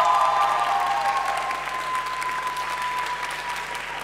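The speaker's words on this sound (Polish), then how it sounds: "A więc konferansjerzy, Mieszko i Natalia, zasłużyli na brawa." Sustained, even applause from a large audience at a young talent showcase, honoring the hosts; a dense wash of clapping with a faint tonal hum underneath, no talking.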